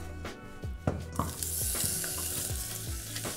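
Chopped onion sizzles in hot olive oil in a pot, a steady, bright frying hiss broken by a few clinks and stirring knocks, with no talking.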